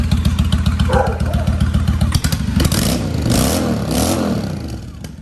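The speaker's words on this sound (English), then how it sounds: "Rev it up a little bit." A Honda Shadow 750 motorcycle idles with a steady, loud lumpy throb, then is blipped into several rising and falling revs close by, with no talk over it.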